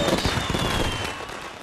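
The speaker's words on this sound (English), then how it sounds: "All the fireworks go off." Fireworks bursting in the Disney Infinity video game after a tripwire trigger, a dense loud crackling barrage of rapid pops and bangs that runs continuously and tapers slightly toward the end.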